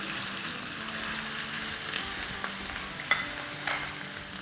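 Dry red chilies, white cumin and curry leaves sizzling in hot oil for dal, a steady close crackle with a few sharp pops, no voices.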